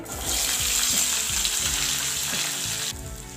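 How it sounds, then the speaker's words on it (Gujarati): Cauliflower florets fry in hot oil with cumin seeds and asafoetida, giving a loud, continuous sizzle with some stirring that dies down sharply near the end. "હવે આપણે એની અંદર હિંગ નાખીશું હવે જે ફુલાવરના ફૂલ જે છે તે લેવાના છે"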